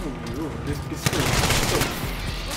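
A pistol fired in a video game: a short burst of rapid shots in the second half, close and fairly loud, after a brief stretch of quieter sound with a voice.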